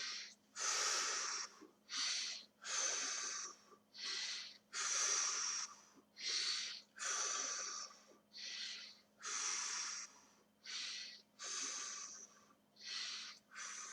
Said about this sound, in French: N'ayez pas peur de respirer fort.